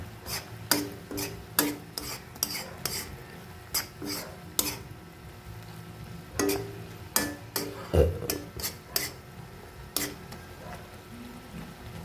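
A utensil stirs thickening pineapple jam in a pan, giving irregular scraping and knocking strokes against the metal, close and fairly loud, with short pauses between bursts.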